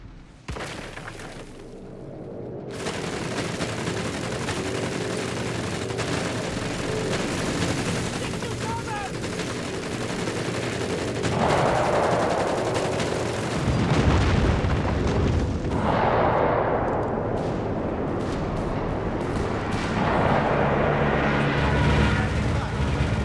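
Gunfire and artillery explosions in Company of Heroes 3 on the Road to Primosole map, with dense crackling shots and heavy booming blasts that swell and recur over a continuous loud battle bed, with game voices calling out now and then.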